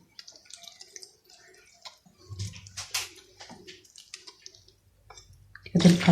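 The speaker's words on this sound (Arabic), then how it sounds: "كنضيف الماء شويه بشويه" Warm water poured little by little into flour dough while it is mixed by hand for crispy stuffed pastries, giving close, soft splashes and drips with gaps between, then a louder wet burst at the end.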